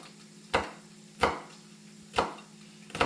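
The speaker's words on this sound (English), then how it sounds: "we're going to chop up these peppers real small" A knife chops peppers on a cutting board for Filipino lumpia, making four sharp, evenly spaced thuds, close and quiet in an otherwise still kitchen.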